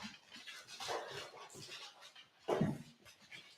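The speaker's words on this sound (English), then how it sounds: "My dogs have all come to visit." Several dogs move about nearby in a quiet room, panting and whimpering softly, with faint shuffling and a brief louder burst of panting near the end.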